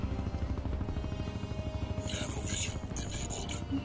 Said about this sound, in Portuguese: O problema todo é esse helicóptero aí,